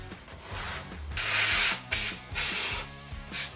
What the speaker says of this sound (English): I spray down everything underneath with raw linseed oil.